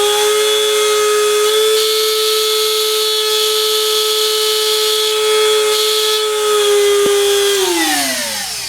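A Wen rotary tool on a flex shaft whines at high speed with a steady, piercing motor tone, then winds down in pitch as it slows near the end, with no talking.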